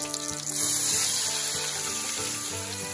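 Sauce bubbles and sizzles hard around pan-cooked wild marten meat, a dense, close hiss that swells after a brief lull and holds steady to the end.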